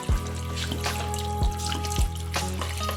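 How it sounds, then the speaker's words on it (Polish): Water splashes and trickles into a pot of sauerkraut, with a few heavier plops and a steady low hum underneath. "Zalewamy wodą tak do 2 trzecich wysokości kapusty"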